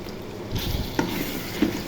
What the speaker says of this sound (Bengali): মাংসের মধ্যে রসুনটা ভাজা ভাজা হবে।